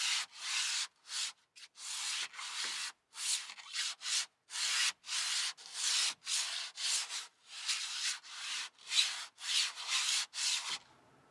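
A Jeep Wrangler headliner panel being sanded by hand with sandpaper wrapped in a wet towel: a long run of rhythmic, raspy rubbing strokes, about two per second, close and steady, with no talk.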